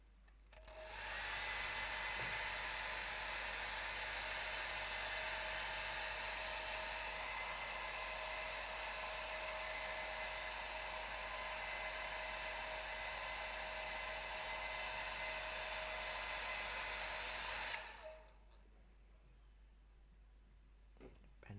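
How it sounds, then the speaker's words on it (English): A hairdryer blows on a gouache painting card, switching on with a rising whoosh and running as a steady, even high-pitched roar for about sixteen seconds before cutting off abruptly, followed by quiet room tone. "I'm going to get the hairdryer on this"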